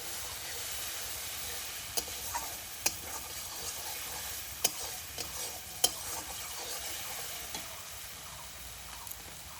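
Raw tomatoes go into a hot pan of mustard spice masala for a village-style mustard fish curry, giving a steady sizzling hiss with scraping stir clicks and sharp taps from the utensil, with no talking.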